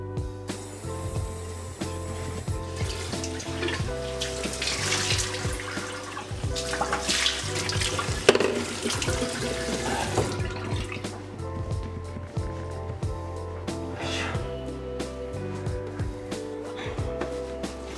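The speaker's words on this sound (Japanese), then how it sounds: "歯を磨き終わったら洗顔します。" Tap water runs steadily into a basin while someone washes their face during a morning routine, splashing and dripping close by over soft background music.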